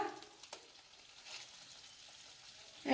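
Spice masala for a prawn curry sizzles softly in a frying pan, with a few brief stirring scrapes and clicks rising over a faint, steady frying hiss.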